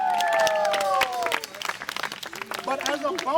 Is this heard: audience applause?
yes